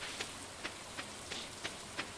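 Rain falling in the video game Stardew Valley: a steady, quiet hiss of rainfall with soft, evenly spaced pattering accents and no voices over it.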